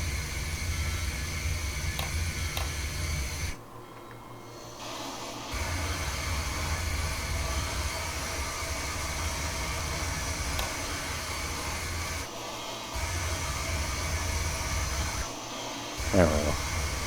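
A locomotive idles and runs steadily in Train Simulator Classic on the Pogwassek Island Railroad. A continuous low mechanical drone with fan-like hum fills the scene, briefly dipping a few times, and a short whine comes near the end.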